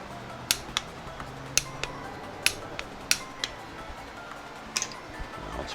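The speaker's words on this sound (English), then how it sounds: "so now I'm going to torque them all to" Sharp metallic clicks from a torque wrench tightening engine bolts to 18 foot-pounds on a Toyota MR-S engine, about a dozen irregular ticks spread across a quiet workshop background, some louder than others.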